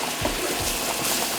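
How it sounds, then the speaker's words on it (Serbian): Bean cooking liquid poured into a roux, a steady close liquid pour with a soft splashing hiss that runs evenly through the short moment, no voices. "uzet ću malo tečnosti pasulja, sipati u zapršku"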